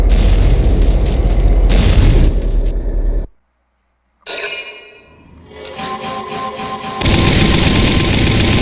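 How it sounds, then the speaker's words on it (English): A 340mm main cannon fires in the Valkyria Chronicles video game, a heavy booming blast with a long rumbling roar, then a sudden silence, a rising whoosh and a renewed thunderous rumble. "That is a 340mm main cannon."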